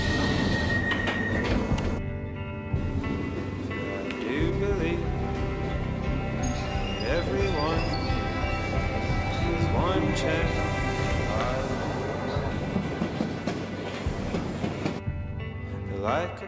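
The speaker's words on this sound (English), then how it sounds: "Mind the gap between the train and the platform." A train runs on rails with a rumbling roll and squealing wheels, its steady mechanical noise continuing beneath voices speaking over it throughout.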